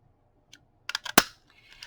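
A few quick clicks and a sharp snap of a circle paper punch cutting through paper, close and quiet, with brief silences around them.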